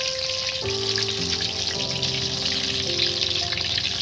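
Onion fritters (piyaji) frying in hot oil, a dense, continuous crackling sizzle heard close and fairly loud throughout, with faint tonal music running underneath.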